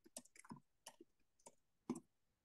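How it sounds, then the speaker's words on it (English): Typing on a computer keyboard, a short run of a few separate key clicks spaced irregularly, close but quiet with no talking. "I can just start typing on my keyboard,"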